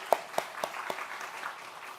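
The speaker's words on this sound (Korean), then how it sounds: "우리 잘 마치고 돌아오다고 격려로 우리 박수로 한번 우리 환영하겠습니다" Small church congregation clapping during a Sunday worship service, a few sharp distinct claps followed by a soft scattered patter, quiet and brief, no talk.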